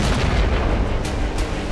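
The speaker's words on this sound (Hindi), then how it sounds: "रूसी फौज ने क्रेमेंचुक में यूक्रेन के हाइड्रो पावर प्लांट पर एक के बाद एक कई धमाके किए।" Explosions from Russian strikes on a Ukrainian hydroelectric power plant in Kremenchuk, heard as a continuous loud, heavy rumbling boom with sharper bursts near the end.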